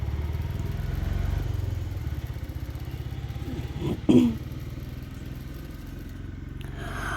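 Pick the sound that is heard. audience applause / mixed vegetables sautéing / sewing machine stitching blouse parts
sewing machine stitching blouse parts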